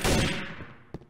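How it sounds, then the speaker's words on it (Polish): A burst of loud, rapid gunfire in Garry's Mod (Trouble in Terrorist Town) opens and decays over a second, followed by a single sharper shot near the end. "Ktoś tam strzela. Słychać strzał."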